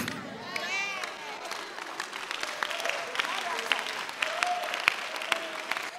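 A church congregation claps and cheers steadily through a sermon, with a voice rising over the crowd noise at the start and the applause carrying on throughout.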